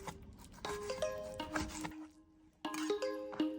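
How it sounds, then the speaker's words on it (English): Knife slicing pork into thin strips on a cutting board, a series of short rasping strokes with light knocks against the board, close and fairly quiet, with a brief pause midway. "Cut the pork into thin strips."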